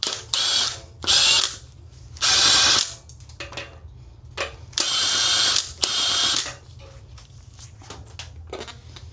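Ratchet tightening a nut on a VW Golf GTI under restoration, several loud rapid clicking bursts separated by short pauses and fainter clicks, close up with no voices.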